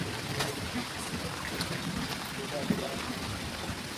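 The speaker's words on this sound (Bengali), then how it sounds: "এই দেখো বৃষ্টি হচ্ছে, জলে ভর্তি।" Rain falls steadily during a storm, with drops hitting surfaces in a continuous wash and a few sharper drip impacts, while someone talks faintly.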